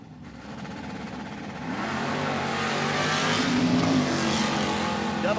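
Nitro funny car Mustangs racing down a drag strip: a continuous engine roar builds and grows louder, filling the clip, heard from a distance with no voices.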